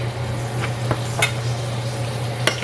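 Milk being stirred into a dish in a pot over steady background hum, with a few soft scraping strokes and faint clicks spaced apart, fairly quiet and close, no talking.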